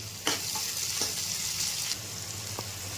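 Onions dropped into a hot pan for chutney, a steady close sizzle of frying with a couple of brief stirring scrapes and no talk.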